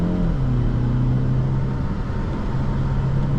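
2024 BMW X1 xDrive28i accelerating on the road, heard from inside the cabin as a steady engine hum that rises in pitch under road rumble.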